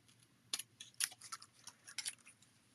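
Scissors snip ribbon in a run of quiet, crisp clicks and short cuts, irregularly spaced, close but faint in a quiet crafting room.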